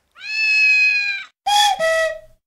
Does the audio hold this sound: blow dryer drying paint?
no